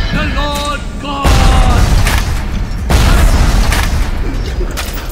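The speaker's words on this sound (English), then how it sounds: "This guy was able to take three grenades to the face" Heavy grenade blasts in BioShock, two loud booming explosions with rumbling tails, preceded by warbling tonal game sounds and a voice calling out.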